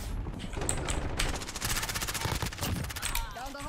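Call of Duty Modern Warfare gameplay fills with rapid automatic gunfire, dense bursts of loud shots in quick succession, ending with a short electronic warble.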